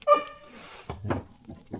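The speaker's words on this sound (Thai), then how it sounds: "เสียงเห่า" A dog barks a few short, sharp times nearby, the barks coming in quick uneven bursts with quiet gaps between them.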